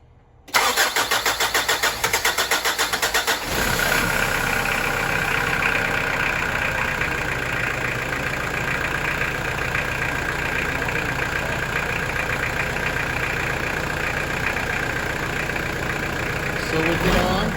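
Diesel engine of a Mitsubishi Delica Space Gear cranking for a few seconds, catching and settling into a steady, even idle with a constant whine; close and loud, no talk.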